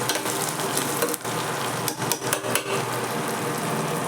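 Beans, cluster beans, drumstick and taro frying in a pan for a light gravy, a continuous loud sizzle broken by stirring scrapes and clatter.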